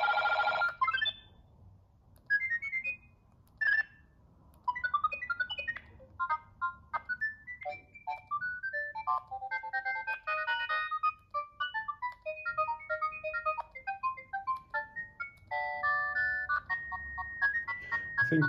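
Polyphonic ringtones on a Sony CMD-J70 mobile phone, a series of bright, beeping synthesized melodies played one after another, fairly faint with short pauses between tunes.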